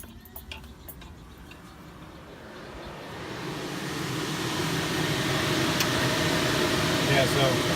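Car electric cooling fans switch on and run, a broadband whoosh of moving air that swells and steadies, with faint ticking and clicks under it and no talk.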